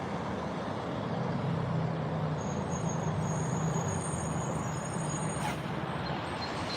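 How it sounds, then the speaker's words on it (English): A garbage truck passes by on Mount Washington with a steady engine rumble and whine heard from some distance, a short high hiss like an air brake near the end, and no voices. "Here comes the garbage truck."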